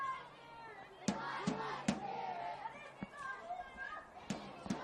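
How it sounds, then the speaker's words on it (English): The NWS Spirit FC cheer squad cheers at a women's football match against Northern Tigers FC, with voices chanting and shouting at a distance, sharp claps or drum hits punching through, and a commentator talking over it. "And I'm sure you can hear the Spirit cheer squad absolutely going off."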